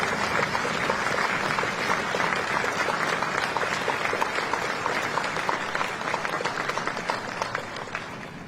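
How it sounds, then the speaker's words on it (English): Dense, sustained applause from a large outdoor crowd at a Veterans Day ceremony at Arlington National Cemetery, a steady wash of clapping that holds evenly and then tapers slightly toward the end. "please join me in recognizing our veterans' national leadership with your applause"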